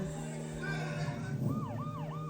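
An ambulance siren wails through a crowd of protesters in Paris, a rising and falling electronic tone over a low engine-like drone, sweeping in repeated loops toward the end.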